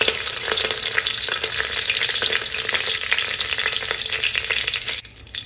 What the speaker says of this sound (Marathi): तर तेल चांगलं ना गरम झालंय. यामध्ये मी हे जिरं टाकलं पाव चमचा, तमालपत्र आणि कढीपत्ता.